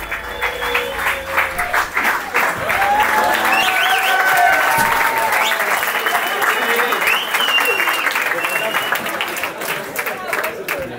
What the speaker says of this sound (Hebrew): אני רוצה להזמין לבמה, במחיאות כפיים סוערות, את אדיר